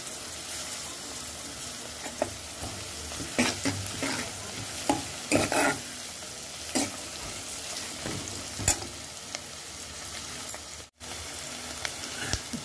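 Curry leaves and green chilies with cumin and onion sputter and fry in hot oil for onion pappu, a dense close crackle with repeated spatula scrapes and clinks against the pan, loud and continuous apart from one short dropout, no speech.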